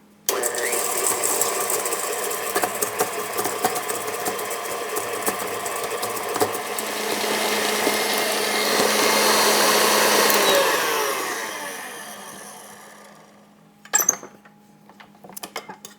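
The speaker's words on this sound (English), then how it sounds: "And we're going to let it beat for just a minute to make it creamy and blended." An electric mixer beating pumpkin pie filling whirs steadily and loudly for about ten seconds, then winds down and stops, followed by a few clinks of the beaters.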